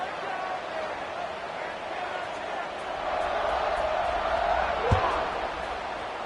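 A college football stadium crowd roars steadily at FSU vs SMU, the broad cheering swelling midway with a sharp thump near the end, carrying on under commentary.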